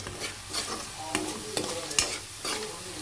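Food in a pan is mixed with a spoon, making soft uneven scrapes and clinks over a low sizzle, quiet and close, with a few sharper knocks against the pan.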